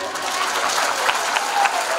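An audience at a church anointing service claps, a short burst of dense applause that stays steady at moderate loudness for about two seconds.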